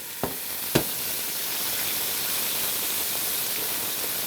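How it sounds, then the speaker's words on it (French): Onions browning in a pan give a steady soft sizzle and hiss, opened by a couple of sharp clicks or taps, with no voices. "Je fais dorer, ça va prendre 2-3 minutes."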